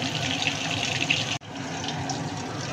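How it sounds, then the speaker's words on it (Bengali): Pieces of batter frying in deep white cooking oil give off a steady, dense sizzle that fills the whole clip, broken only by a brief dip near the middle before the hiss resumes at the same level. "সাদা তেল দিয়ে একদম ডিপ ফ্রাই করছি এগুলোকে"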